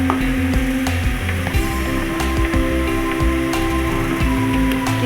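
Onions fry in oil, a dense crackling sizzle with scattered sharp pops over a steady hum, loud and close throughout.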